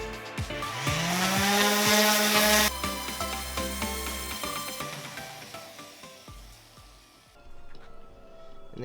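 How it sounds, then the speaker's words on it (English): A power sander works over a live edge wood slab table, a loud whirring grind that rises and shifts pitch, with scraping contact passes and the motor spinning down partway through. "Hit that with your sander."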